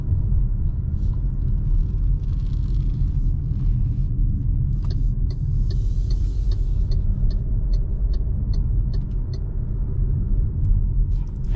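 A 2025 MG HS Luxury petrol car with automatic transmission driving at night, with steady low road rumble and engine noise, a continuous even drone throughout and faint clicks now and then.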